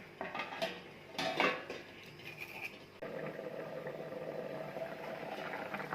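A lid set on a pan of bell pepper curry: a few metallic clanks and scrapes of pot and utensils near the start, then a steady low simmering hiss continues quietly.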